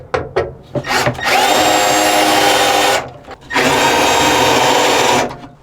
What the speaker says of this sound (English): I had to drill it from the bottom and then they popped right out